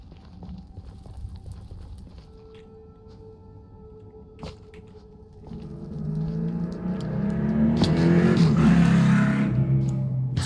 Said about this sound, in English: An unsuspected motorcycle just passed my window.